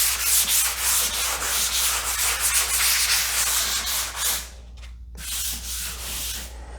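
Foam sanding block rubbed back and forth over a drywall hole patch, giving rhythmic close scraping strokes, then a brief pause before the sanding resumes.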